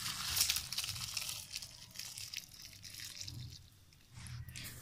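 Boiled pasta and its water poured through a strainer set over a bowl in a home kitchen, a close, steady wash of splashing and dripping water with crinkly rustles, continuous for several seconds with no talk.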